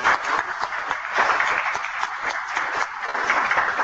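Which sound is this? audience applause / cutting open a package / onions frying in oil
audience applause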